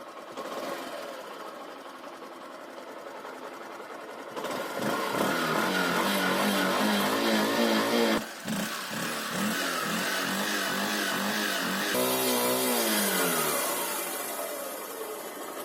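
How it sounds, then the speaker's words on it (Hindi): A motorcycle engine starts and idles, then runs steadily with a buzzing, rattling note while driving an air pump hooked up to fill a tyre, close and continuous with shifts in load. "बस गाड़ी को चालू करके टायर में एयर फिल करना शुरू कर देना है"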